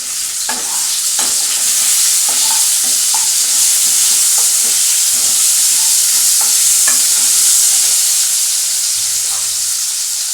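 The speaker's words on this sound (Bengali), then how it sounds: "এর মধ্যে আমি আর একটুখানি তেল মেশাচ্ছি" Jeera rice being stirred in hot oil in a pan, a steady loud sizzling hiss throughout with scattered scraping and clicking stir strokes, no voices.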